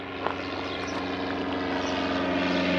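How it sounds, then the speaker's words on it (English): An airplane drones steadily overhead, a continuous engine hum with propeller tones that grows slightly louder, no voices. "We'll let this plane go by."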